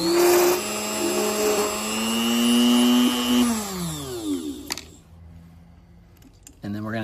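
A small power drill boring through a pearl whines at high speed, then spins down gradually with falling pitch, followed by quiet and a brief restart near the end.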